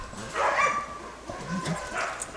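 Dogs at a rural yard yipping and whimpering in short excited bursts, a few close high-pitched yelps spread over a couple of seconds, with no speech.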